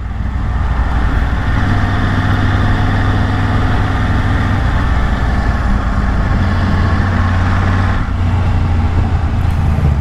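Harley-Davidson motorcycle engines rumbling close by on a Japanese roadside near a convenience store, a loud continuous low drone with steady throb and a slight change near the end.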